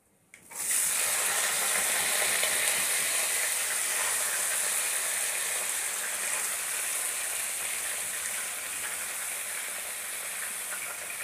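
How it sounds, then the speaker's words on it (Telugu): Brinjals hit hot oil after fenugreek seeds and burst into a loud, dense, steady frying hiss that carries on evenly, easing only slightly over time. "మెంతులు ఇలా వేగిన తర్వాత వంకాయలు వేసుకున్నాడు"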